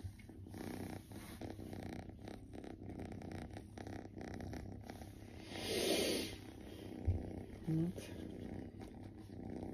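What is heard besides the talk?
cat purring on lap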